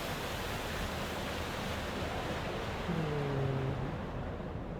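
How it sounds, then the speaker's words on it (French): Steady rushing water from the Firmament game, a dense even wash like flowing or falling water, with a brief low tonal hum rising partway through and no talk. "C'est de l'eau."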